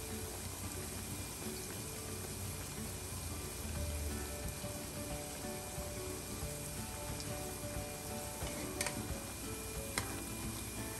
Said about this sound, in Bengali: আমি পাকুড়াগুলো ভাজা শুরু করব